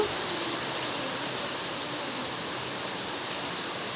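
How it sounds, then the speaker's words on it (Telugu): Heavy rain pours onto trees during a red-zone downpour, a steady, even hiss of falling water filling the whole stretch at constant loudness with no voices. "వర్షంలో చెట్లు చూసారు ఎలా తడిసిపోతున్నాయో"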